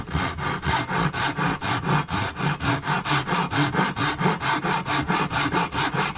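A hand saw cuts through wood in steady back-and-forth strokes, about four per second, each a loud, close rasping rub in an even rhythm with no voices.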